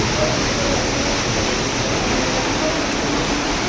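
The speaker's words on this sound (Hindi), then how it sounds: "आवाज़ तो आ रही है झरने की" The Guchu Pani waterfall near Dehradun, set among tall hills, roars as a loud, continuous broadband rush of falling water that stays even and unbroken throughout.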